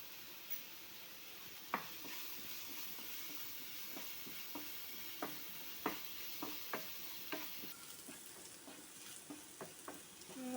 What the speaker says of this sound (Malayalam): വഴണ്ട് വരുന്നുണ്ട് ചെറിയ സിമ്മറിലിട്ട് വേണേൽ ചൂട് അത് വഴിച്ചെടുക്കാം അല്ലെങ്കിൽ പെട്ടെന്ന് ഉള്ളി കരിഞ്ഞു പോകാൻ